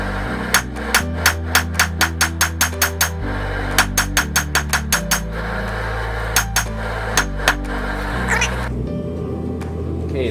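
A railroad spike is hammered over the rounded edge of an anvil while forging knife tongs, giving loud, evenly paced ringing blows in several runs, each group separated by brief pauses.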